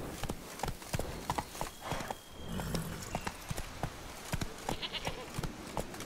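A horse gallops in The Witcher 3, its rapid hoofbeats clattering in a quick rhythmic series with a brief lull midway, moderately quiet and heard alone.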